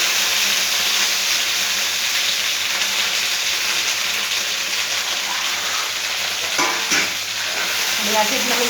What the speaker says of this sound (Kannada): ಹಾಕಿದ್ಮೇಲೆ ಈ ಥರ ಫ್ರೈ ಆಡ್ತಾನೆ.